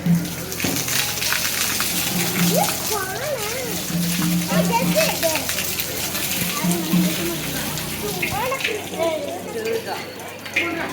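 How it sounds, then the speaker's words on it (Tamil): Water is poured onto a temple pole at a Mariyamman village festival, splashing and gushing steadily beneath a crowd of adults and children talking and calling out throughout. "எல்லாரும் வந்து கம்பத்துக்கு தண்ணி ஊற்றுறாங்க"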